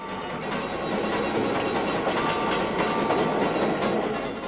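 The Brighton Belle, an electric train with carriages dating from 1933, pulls out of Victoria Station, a steady rumbling roll with rhythmic clicking of wheels over rail joints, moderately close and unbroken.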